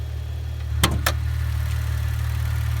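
Maserati Ghibli sedan's engine hums in a low steady drone near idle, with two short sharp clicks or knocks briefly cutting in partway through.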